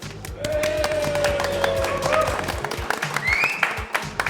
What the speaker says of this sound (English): can we have a big cheer for the fire station?